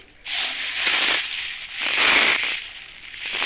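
Close, steady crunching and crackling as a hand crumbles dried henna leaves dried on a steel plate, rising and falling in waves over a few seconds, with no talking.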